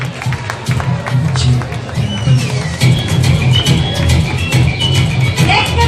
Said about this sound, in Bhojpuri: जोरदार तालियां हो जाए अरुण सिंह जी के लिए।